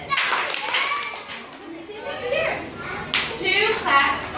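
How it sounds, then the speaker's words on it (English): Children clap twice for an award recipient at a school award ceremony, with brief hand claps mixed in among children's voices and chatter. "2 claps for Juliana Sanchez"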